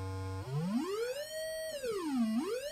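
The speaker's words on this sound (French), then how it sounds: "si on revient avec l'onde sinusoïdale, c'est l'onde classique de base" A pure sine wave from an oscillator in TouchDesigner holds a low steady pitch, then sweeps up, dips and rises again as its frequency is changed. It plays alone, clean and fairly quiet.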